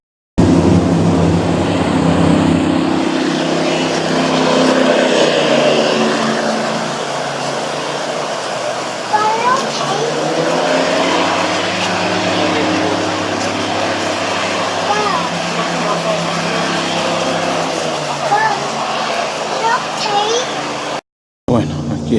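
Powerful V8 airboat engines roar steadily in the Florida Everglades, a loud, continuous droning rumble that holds for about twenty seconds with faint voices beneath, then cuts briefly before resuming.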